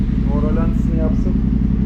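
A Yamaha Tenere 700 motorcycle with a newly fitted GPR exhaust idles with a steady low throb, close by, while a voice talks briefly over it.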